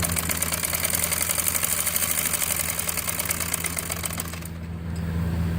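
A sewing machine runs steadily while stitching along the narrow border edge of a salwar, a continuous mechanical whir with a fast repetitive clatter that eases slightly near the end.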